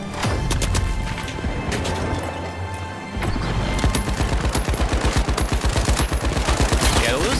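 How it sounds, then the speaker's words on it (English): Lewis gun machine gun firing in The Finals video game, loud rapid bursts of automatic fire with a short pause, then a long steady rattling stream of shots, punchy and close. "I'll just keep killing people with the Lewis gun"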